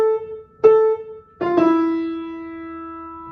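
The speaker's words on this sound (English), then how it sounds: "basically considered like a two-note call or whistle, and it sounds like this" A two-note bird-like call played on an instrument: a clear held tone, a brief higher chirp, then a lower sustained note that rings out and slowly fades, solo and close.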